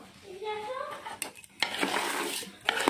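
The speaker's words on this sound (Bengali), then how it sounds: "তো বন্ধুরা বিরিয়ানির চাল ভাজা হচ্ছে এই যে" Biryani rice frying in a pot, stirred with scraping metal clatter and a steady sizzle, loud and close, with brief bursts of utensil knocks and no speech.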